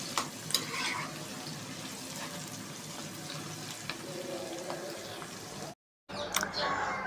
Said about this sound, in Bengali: পেস্টগুলো ভাজা হচ্ছে।